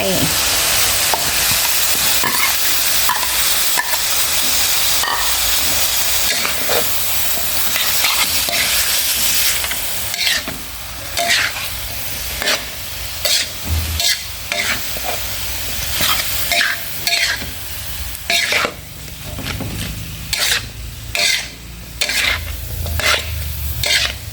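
Minced pork stir-fried in a pan with pickled bamboo shoots: a steady loud sizzle at first, then repeated scraping stirs of the spatula against the pan over the continuing fry.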